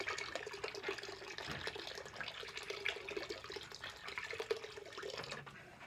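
Water runs and splashes into a container where a skull is being soaked with bleach, a faint, continuous trickling and pouring with no talk.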